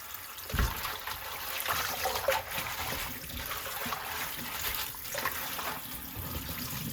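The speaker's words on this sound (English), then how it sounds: "So you have to soak in water fully and mix like this." Water sloshes and trickles as spinach is swished around in a bowl, a soft continuous splashing with occasional louder swirls.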